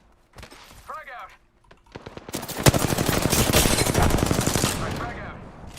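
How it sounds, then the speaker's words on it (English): Loud sustained automatic gunfire in Apex Legends, rapid overlapping shots building into a dense burst after scattered earlier sounds and brief voice-like chatter. "Shots fired and they're hitting me."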